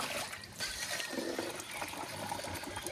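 Water trickles and splashes as it is poured into a drinking container for farm animals, a soft, close, brief stream with faint handling clinks.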